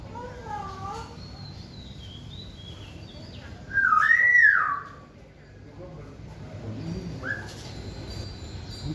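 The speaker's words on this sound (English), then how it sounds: "I actually like birds here at this temple." Birds call and whistle in varied chirps and rising notes at a temple in Samut Prakan, Thailand, with one louder whistled call in the middle over a low background murmur.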